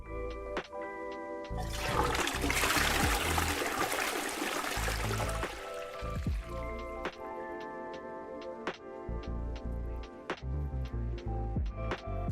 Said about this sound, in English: let's flush it